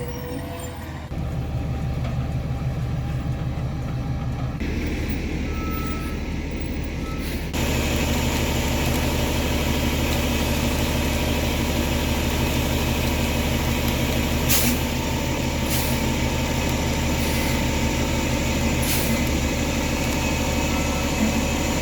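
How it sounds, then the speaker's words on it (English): A concrete truck pulls up to a shed build site and settles into a steady, loud diesel idle, its deep engine rumble continuous and near, with brief hissing bursts from air brakes toward the end; no one speaks. "Here comes the truck."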